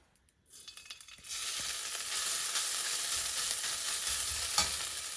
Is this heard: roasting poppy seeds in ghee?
yes